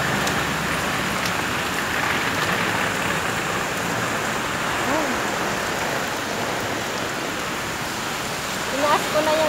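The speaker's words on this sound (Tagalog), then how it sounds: "Kagabi pa kasi umuulan." Steady rain keeps falling on a flooded street after a night-long downpour, a dense, even hiss with no letup, close and fairly loud throughout.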